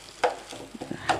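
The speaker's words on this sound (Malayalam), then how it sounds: "നല്ലോണം ഇളക്കി" Jackfruit seed podimas mixed with grated coconut being stirred in a pan: a few soft scraping strokes with a spatula, close and faint, with a light sizzle and no talk.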